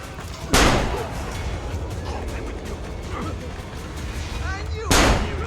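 Gunshots in Assassin's Creed Brotherhood: two loud, sharp blasts several seconds apart, one near the start and one near the end, over a steady rumbling game background.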